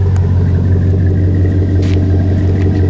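A 2005 Chevy Silverado 1500 pickup with a Flowmaster 50 series Delta Flow exhaust idles nearby with a deep, steady exhaust rumble, low and continuous throughout.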